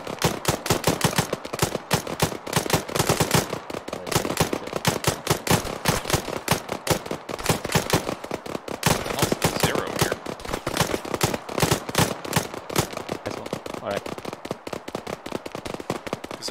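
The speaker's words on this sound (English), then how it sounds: "Honestly, I've been shooting at guys around the gas station." Gunfire in the game Operation Mosul, sustained bursts of rapid automatic shots mixed with single cracks, loud and close, firing almost continuously with only brief gaps.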